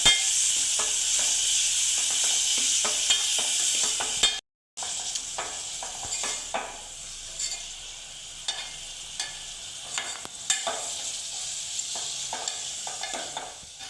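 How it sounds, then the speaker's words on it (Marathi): Onion frying in hot oil for a prawn biryani, a loud steady sizzle with a brief drop to silence, then continuing hiss and crackle with scraping stirs and small spatters. "आता आपण कांदा घालून घेऊया तेलात कांदा थोडा लालसर करून घ्यायचा"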